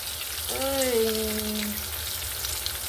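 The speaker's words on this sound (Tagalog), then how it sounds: "Magprito na ko, guys." Steady sizzling of dried fish frying in hot oil, continuous and close, with a brief tonal voice-like sound rising and holding near the start.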